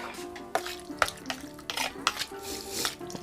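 A spoon stirs a warm honey mixture for bobcat jerky in a pot, scraping and clinking against the metal in irregular strokes, close and moderately loud.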